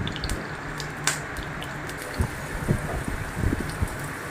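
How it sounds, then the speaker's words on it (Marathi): Finely chopped onion hits hot oil in a pan and sizzles with a steady, crackling hiss and a few sharp pops and wet spatters, close by with no talking. "तेल गरम झाल्यानंतर आपण त्याच्यामध्ये आपण जो कांदा कापला होता, चॉप कांदा"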